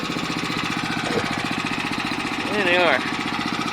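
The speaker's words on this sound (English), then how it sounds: "These Harbor Freight engines are truly something else." Harbor Freight 301 small engines run on a VW bus go-kart, a steady rapid chugging idle close to the microphone, while someone speaks briefly over it.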